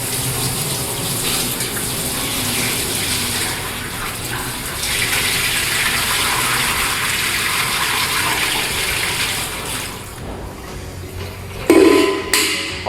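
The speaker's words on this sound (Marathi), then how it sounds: "ह्याच्यामध्ये पाणी टाकायचं." Water gushes steadily into a bain marie fitted with a heater coil, a loud, continuous pouring rush that stops near the end, followed by a few close clanks and knocks.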